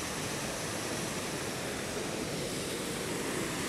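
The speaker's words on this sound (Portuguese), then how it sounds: "Cachoeira das Antas." Cachoeira das Antas waterfall in the Minas Gerais highlands produces a steady, dense rushing roar with no pauses. The water noise is loud and constant throughout, and no one speaks.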